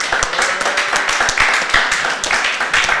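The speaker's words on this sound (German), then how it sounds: "Ein Applaus mal hier von allen." Applause at a German card tournament's final table awards, a crowd clapping steadily and densely throughout, close and loud, with no talk over it.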